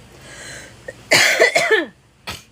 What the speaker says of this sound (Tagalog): inuubo po ako